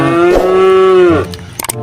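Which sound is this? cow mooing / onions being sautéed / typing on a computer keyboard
cow mooing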